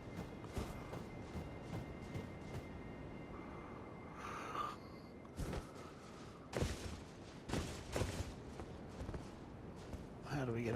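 Scattered sharp gunshots fired by a character in the Macbeth video game, several brief cracks spread irregularly across the scene amid footsteps, with someone talking over them.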